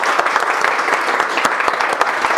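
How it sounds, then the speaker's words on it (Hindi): Students in a repair training class clap for themselves, a dense burst of hand claps filling the room at close range, steady and lively throughout. "एक बार ताली बजाओ खुद के लिए"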